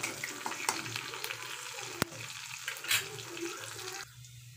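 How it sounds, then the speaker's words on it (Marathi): Cumin, curry leaves and crushed garlic sizzle steadily in hot oil in a pan on a gas flame turned low, with a close, continuous crackle, a few sharp pops and stirring scrapes, then the sizzle thins out near the end. "अशी छानशी फोडणी बसून द्यायची"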